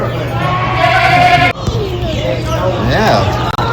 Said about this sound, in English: Huge billy goats in here.